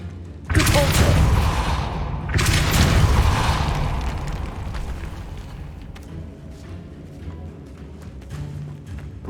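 The Depulso force spell is cast in Hogwarts Legacy. Two loud, booming blasts hit close together, each with a rumbling tail that fades slowly under lighter mechanical clatter.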